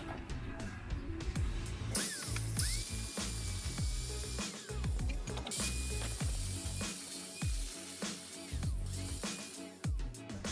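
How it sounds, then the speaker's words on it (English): Grinder working an old bicycle chain whip clamped in a vice, with harsh, uneven grinding bursts and a high whine, broken by brief pauses and clanks. "we're going to start grinding."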